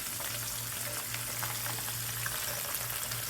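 Curry leaves and sea fish frying in hot oil, a dense steady sizzle with fine crackling pops that runs continuously and evenly throughout, with no voices.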